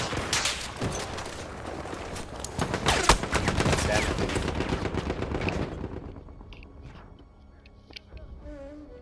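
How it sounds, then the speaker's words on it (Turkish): A machine gun in the World War I shooter Battlefield 1 fires rapid, dense bursts that are loud for the first several seconds, then tapers off into quieter scattered shots and ambient noise. "Orada bir makinalı tüfek var."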